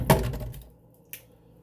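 A water bottle is opened indoors: one sharp crackling twist of plastic at the start, fading quickly, then a second brief click about a second later, near and fairly quiet.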